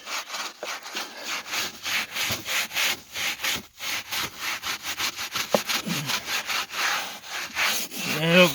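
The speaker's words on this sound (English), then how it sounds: "just get a good scrub brush and scrub it good." Stiff scrub brush scrubbing the interior of a Jeep Grand Cherokee, a close, steady run of rhythmic rasping strokes with brief pauses, heard alone.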